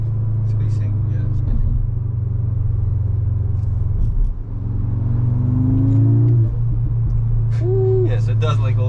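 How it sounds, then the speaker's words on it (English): Engine of a 2024 Audi S3 8Y droning steadily, a rising rev near the middle with faint turbo whoosh, while people talk over it throughout. "Yes, it does like a little bit of turbo noises."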